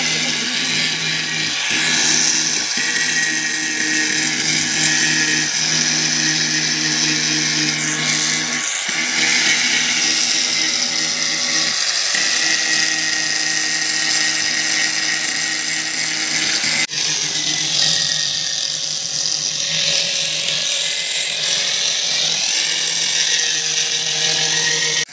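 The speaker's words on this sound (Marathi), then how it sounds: "हा ग्राइंडर आहे" An angle grinder cuts and grinds across an external patch on a 2000-litre plastic water tank, a loud, continuous high-pitched whine with brief dips where the disc eases off and bites again.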